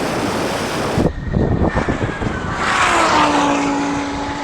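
A Rimac Nevera and a Lamborghini Huracan drag race, a broad rushing roar with wind noise that surges, then a rising whine and engine tone sweep as the cars pull away.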